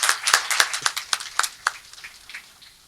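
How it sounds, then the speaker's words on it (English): An audience clapping hands for a speaker at a book talk, a short burst of brisk, uneven claps that thin out and fade over a few seconds, fairly close and with no talking over it. "Can we clap hands for him, please?"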